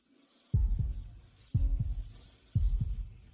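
A heartbeat sound effect: three deep, booming double thumps at an even, steady pace, close and resonant, with no voices.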